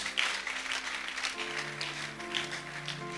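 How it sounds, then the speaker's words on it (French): A church congregation applauding in praise of God, a steady wash of clapping from many hands with a sustained musical tone underneath. "Acclamons pour la gloire de notre Dieu"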